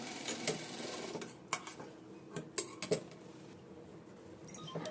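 A sewing machine stitches a shoulder seam on a princess-cut blouse, faint and close, with short bursts of clattering needle action and a few sharp clicks between quieter stretches.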